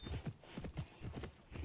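Horse hooves clip-clop in a steady, rhythmic gait in the riding game Horsez 5. The hoofbeats are close and fairly loud, with brief faint voice sounds in the background.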